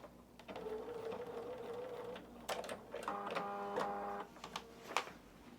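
A sewing machine stitches a paper-pieced quilt border, its steady mechanical whir running for a couple of seconds, then resuming in short, rattling bursts with brief pauses between them, close and moderately loud.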